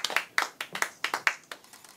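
Sparse, distinct hand claps from a small audience at an anti-corruption award ceremony, about ten sharp claps in a loose rhythm, fairly close and quiet, with no talk over them.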